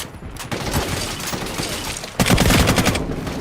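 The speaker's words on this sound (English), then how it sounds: "Like listen to the sound when you get a headshot in this." Rapid gunfire in a first-person shooter shown at Gamescom 2025, a dense run of close, punchy shots with a louder burst near the end, no voices.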